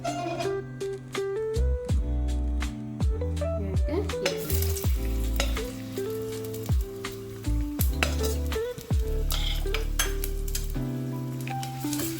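Onions frying in a hot tempering for sambar, with a loud continuous sizzle broken by frequent metallic scrapes and clanks of a stirring spoon against the pan, close up and without speech.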